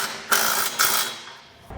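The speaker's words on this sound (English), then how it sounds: "come back with a 19 or 3/4 inch socket and snug it all down" A ratchet wrench with a 19 mm (3/4 inch) socket snugs down Curt trailer hitch hardware on a 2022 Toyota Tacoma, giving two short bursts of close, rapid clicking followed by a quieter tail.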